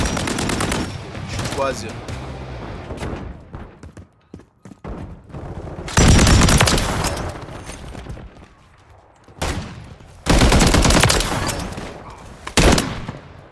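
Gunfire in the video game Call of Duty MW3 (Modern Warfare 3), loud bursts of rapid shots in several clusters separated by quieter gaps, with someone briefly speaking in French between them.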